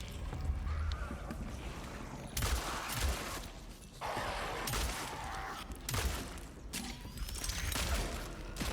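Charge-shot gunfire from the survival horror game Cronos: The New Dawn, heard as several loud, broadband bursts a second or so apart against a continuous droning, mechanical game ambience.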